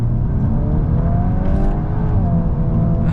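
A 2025 MK8.5 VW Golf R Black Edition accelerates hard in second gear, its engine note rising steadily as a loud, continuous drone heard from inside the car, with no talk.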